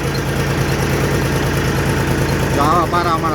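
A tractor on a chilli farm idles with a steady, throbbing low engine drone close by, while a voice speaks briefly near the end.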